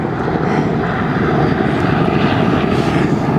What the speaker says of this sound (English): I'll just let the helicopter go past.